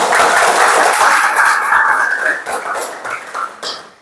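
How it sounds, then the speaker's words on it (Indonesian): A classroom of students claps together in a dense, loud burst of applause that tapers off toward the end. "Berikan dulu tepuk tangan untuk kita semua."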